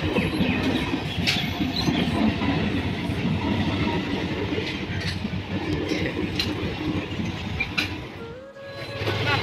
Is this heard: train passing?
yes